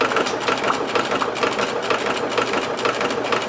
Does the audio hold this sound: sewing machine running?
yes